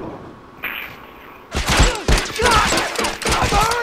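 Burst rifle fire in The Last of Us multiplayer: after a quiet moment, a rapid string of close, loud shots cracks out in clustered volleys that keep going.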